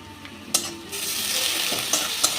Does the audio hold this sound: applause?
no